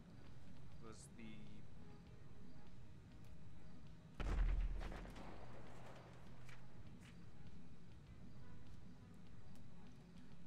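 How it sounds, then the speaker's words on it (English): An explosion in a video game lands as a single sudden boom midway through, with a rumbling, crackling tail that fades over a couple of seconds against a quiet, pulsing background. "And I heard an explosion again"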